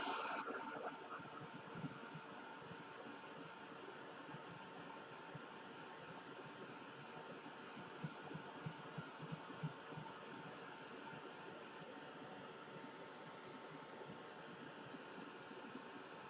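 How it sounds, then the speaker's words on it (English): Heat dryer blowing over craft paper laid on deli paper, a continuous close airy whoosh with a low motor hum underneath, steady and unbroken for the whole stretch with no talking. "Let's just hit that with the heat dryer."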